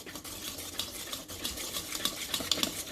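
A spoon stirs chocolate fudge cupcake batter in a bowl, giving steady, close scraping and swishing strokes with soft clinks against the bowl. No one speaks.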